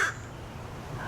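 A crow caws outdoors, faint and distant, with one brief call at the start and a softer one near the end over a low background hum.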